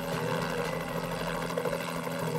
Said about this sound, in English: The state police had a chopper flying around